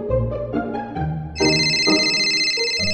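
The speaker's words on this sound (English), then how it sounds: "My phone is ringing." A phone rings with a bright, sustained electronic ringtone that starts abruptly after a low tonal passage, loud and close with no talking.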